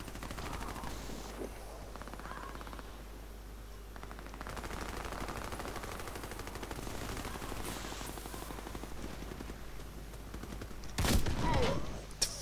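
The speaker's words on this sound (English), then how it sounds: "I can't fucking find the one kid shooting at me." Gunfire in a video game shooter plays as rapid, continuous automatic bursts at moderate volume, with a sharper, louder cluster of shots near the end.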